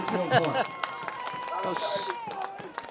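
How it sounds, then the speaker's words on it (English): Crowd noise at a high school football game between Ridgefield Park and Westwood after a sack, a steady roar with scattered claps beneath an announcer's ongoing commentary. "Listen to that crowd, Larry"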